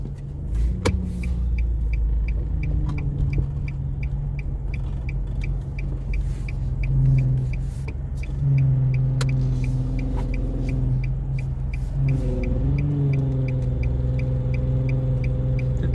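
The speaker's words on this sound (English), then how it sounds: "Even here, as I'm waiting to make this left turn, it's a pretty steady flow of traffic." Steady traffic on Ditmas Avenue heard from inside a car waiting to make a left turn: a continuous low engine rumble with vehicles passing and swelling at intervals, a faint repeating ticking above it, and no talking.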